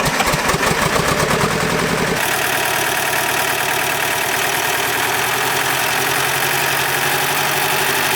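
The engine of an old 1963 vehicle cranks briefly and catches, then settles into a steady, loud, rough idle that runs on without a break, heard up close and with no talk.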